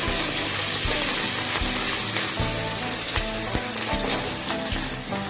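Ginger with tomato and a little salt sizzles and fries steadily in a pan for a potato curry served with Mughlai paratha, a loud, continuous close sizzle with faint stirring scrapes.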